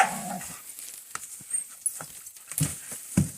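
A puppy playing dog games lets out a few brief, soft whimpers and pants in scattered short bursts, close by and fairly quiet.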